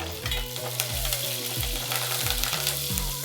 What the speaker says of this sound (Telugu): ఇప్పుడు దీంట్లోకి కొద్దిగా కరివేపాకు వేసుకుందాం